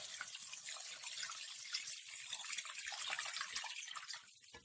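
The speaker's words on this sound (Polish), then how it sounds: "teraz musimy sobie zalać wszystko naszą wodą z solą, delikatnie" Salt water poured gently from above over beets packed with garlic and spices in a jar, a steady close trickle and splash lasting a few seconds, with no talk.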